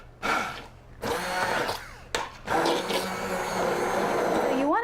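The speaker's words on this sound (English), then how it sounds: "I have a handheld blender. This is a Braun that my husband bought for me." A Braun handheld immersion blender purees butternut squash soup in a pot, its motor whirring in several bursts with brief pauses, close and fairly loud.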